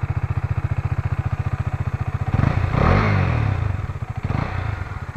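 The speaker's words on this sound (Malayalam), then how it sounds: "ഡ്യൂക്ക് എടുത്ത് നോക്കുകയാണെന്നുണ്ടെങ്കിൽ ഭയങ്കര സ്വീറ്റ് ആയിട്ടുള്ള ഒരു എക്സോസ്റ്റ് നോട്ടാണ്" A KTM Duke 250 BS6 motorcycle idles with a steady, even exhaust thump, then revs up in two throaty bursts before settling back to idle, loud and close with no talk.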